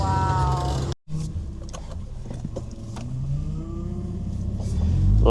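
A 1996 Nissan 240SX car drives up, its engine rumbling steadily and growing louder as it approaches, with a brief dropout near the start and faint voices in the background.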